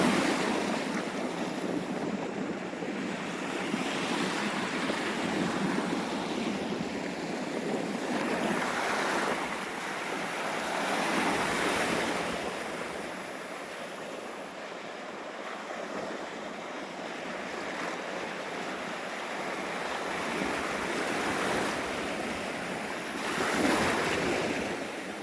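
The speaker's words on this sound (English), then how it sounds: "I've been just floating out there on the waves" Ocean surf rolls in steady washes on the coast at Galveston, Texas, with wind buffeting the microphone throughout, the waves swelling and fading in slow cycles with no talking.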